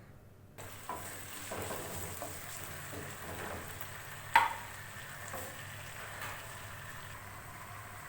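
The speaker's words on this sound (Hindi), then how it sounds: "तकरीबन 10 मिनट्स तक चिकन को अच्छी तरह फ्राई करेंगे।" Chicken pieces fry in oil in a karahi for chicken karahi, a soft steady sizzle with a faint crackle and a sharp clink of utensil partway through, no voices.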